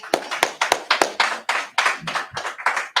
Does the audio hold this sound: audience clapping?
yes